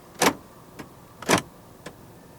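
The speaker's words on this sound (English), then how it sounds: "Central locking." Two quick mechanical clunks from the central door locks of a 2019 Honda HR-V 1.8 V, each followed by a fainter click, close by in a quiet interior.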